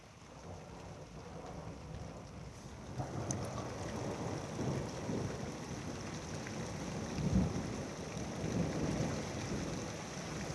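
Steady heavy rain pours during a nighttime thunderstorm with a power outage. Low, rolling rumbles of thunder build and peak midway through, and no voices are heard.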